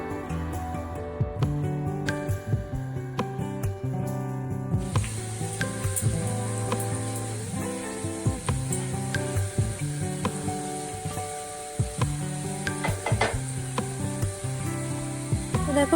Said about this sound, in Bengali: পেঁয়াজটাকে আমি লাল লাল করে ভেজে নেব